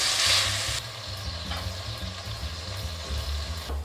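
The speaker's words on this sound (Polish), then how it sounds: "W tym czasie do garnka wlewam oliwę i wrzucam cebulę. Kiedy się smaży" Onion frying in olive oil in a pot, a steady soft sizzle with faint stirring noises throughout.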